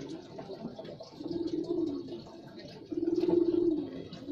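A lively bird held in the hand coos in two soft, low bursts close by, with faint background noise between calls.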